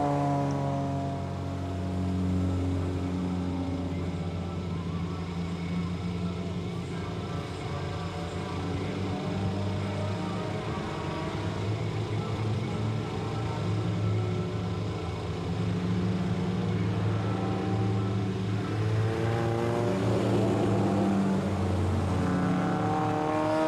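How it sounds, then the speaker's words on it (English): A field of four-cylinder bone-stock race cars rolls onto the Grand Bend Speedway oval, engines droning and revving together in a loud, steady, continuous roar that swells as they pass. "Here they all come onto the raceway. It is 4-cylinder bone stock time."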